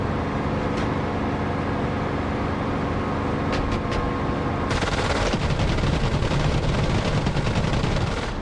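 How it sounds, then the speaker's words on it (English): Enemy gunfire in the DCS flight simulator rattles in rapid machine-gun bursts over a steady propeller aircraft engine drone, growing louder and denser in the second half. "They're firing at me."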